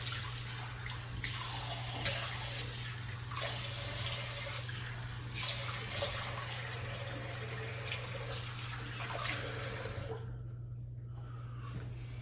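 Tap water runs steadily and splashes into a sink while shaving lather is rinsed off the face, a continuous close rushing that stops abruptly near the end, with no talking.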